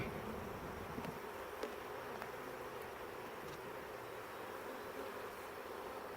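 Honeybees hum around an open beehive, a faint, continuous buzzing drone with a few brief louder passes close by, no voices.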